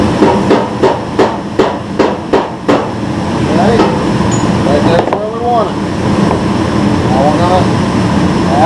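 About nine sharp, ringing metallic hammer blows land in quick rhythm on the sheet metal of a 1954 GMC fender, then stop; a voice talks afterward over a steady background hum.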